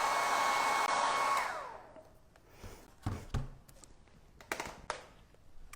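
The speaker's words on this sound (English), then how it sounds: "Just hit that with a little bit of hairdryer to make sure it's super dry" Hair dryer blowing steadily over dried hydrangea flowers on a welcome sign, a loud whoosh that cuts off after about a second and a half, followed by scattered taps and light handling noises.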